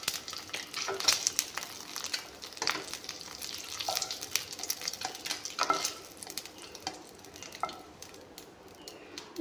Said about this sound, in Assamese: এয়া কণীখিনি অলপমান ভাজি লৈছোঁ।